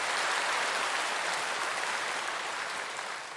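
A church congregation applauding during a Sunday service, a dense steady wash of many clapping hands filling the room and holding without a break before easing off slightly at the end.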